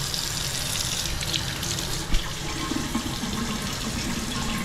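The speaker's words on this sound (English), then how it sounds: "We gotta wash our hands and face." Tap water runs steadily into a sink for hands and face washing late at night, a continuous close splashing hiss with one brief knock partway through, no talking.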